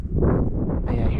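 Strong wind buffets a microphone outdoors at an old train derailment site, a steady low roaring rush that swells and gusts throughout with no pause.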